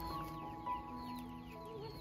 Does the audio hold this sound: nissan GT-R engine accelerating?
no